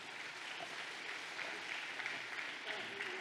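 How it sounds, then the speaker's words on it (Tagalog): Steady applause from a church congregation at an anniversary service, dense and sustained with no clear break, filling the room at moderate volume throughout. "May pumalakpak na"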